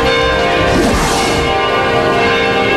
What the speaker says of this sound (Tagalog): Tunog ng kampana ng simbahan ang gumising ngayong araw sa maraming Katoliko.